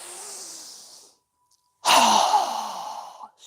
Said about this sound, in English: we'll exhale with a strong breath through our mouth as we quickly lower our arms and hands down